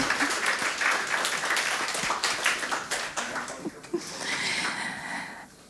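An audience at a Ukrainian stand-up comedy show claps steadily, with loud, dense applause that tapers off near the end.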